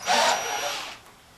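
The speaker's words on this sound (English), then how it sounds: "it's a lot of drag on that cordless drill." A cordless drill whirs briefly at close range, loud for under a second before spinning down and fading.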